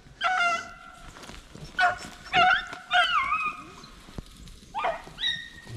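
Beagle hunting dogs whimper and yip with rising, wavering whines, then break into a few sharp barks, close by and loud, in short bursts across a freezing cold rabbit hunt in rural Virginia.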